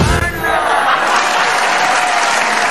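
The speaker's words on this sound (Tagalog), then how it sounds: "Ba't pumalakpak na naman?" A canned applause sound effect played during a commentary stream, a dense burst of crowd clapping at full level, sustained throughout.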